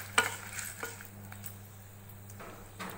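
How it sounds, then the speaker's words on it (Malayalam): Dried red chillies sautéing in a pan while making a horse gram chutney, a soft steady sizzle with occasional stirring clinks, fairly quiet and alone. "ആഡ് ചെയ്ത് നന്നായി വഴറ്റി കൊടുക്കാം."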